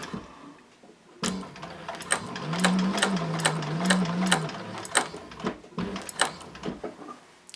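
Techsew 4800 Pro industrial sewing machine stitching in bursts, with a steady motor hum and sharp rhythmic needle clicks, pausing briefly and then resuming, close and fairly loud with no talking.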